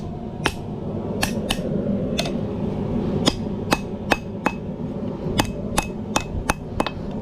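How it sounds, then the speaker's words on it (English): Sharp metallic hammer strikes on a hot carving tool, about a dozen distinct taps spaced irregularly, close and crisp over a steady low background hum. "Hit it with your hammer a couple times."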